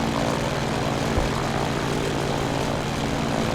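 Simulated Grumman F4F-4 Wildcat propeller engine in Microsoft Flight Simulator, a steady loud droning hum with a low rumbling throb holding constant throughout, no voices.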